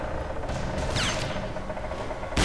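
Gunfire in the shooter game RAGE sounds as dense, rumbling shots over a steady background, with a sharp blast at the very end.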